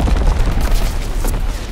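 Heavy artillery barrage in Call of Duty: WWII, a dense, continuous roar of overlapping booms and crackling blasts with strong low rumble, loud and sustained throughout without clear gaps.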